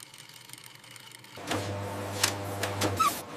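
An electric sewing machine stitching plush toy fabric seams in a factory, a steady mechanical hum that starts partway in and runs for about a second and a half, with small clicks and rattles on top.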